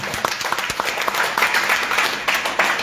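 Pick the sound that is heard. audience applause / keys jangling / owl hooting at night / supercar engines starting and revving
audience applause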